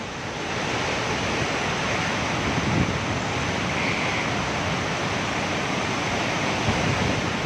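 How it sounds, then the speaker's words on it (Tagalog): Loud, continuous roaring wind from Super Typhoon Rolly in the Philippines, with broad rushing noise, steady and unbroken, buffeting close to the microphone, with no voices. "first time ulit maka-experience siguro ng ganito malakas ng hangin"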